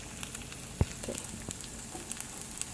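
Eggs fry in a pan with a steady close sizzle and crackle, dotted with small pops and one sharp tap.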